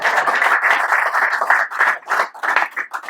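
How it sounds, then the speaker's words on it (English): A school committee meeting audience claps steadily for about three seconds, a dense, even patter of many hands with no voices over it. "Let's clap now."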